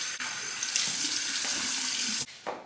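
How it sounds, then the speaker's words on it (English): Tap water gushes steadily into a sink for a shaving rinse for about two seconds, then cuts off abruptly, followed by a brief faint splash. "Now a hot and then cold water rinse."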